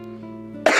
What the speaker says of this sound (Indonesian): Jadi kalau misalnya aku batuk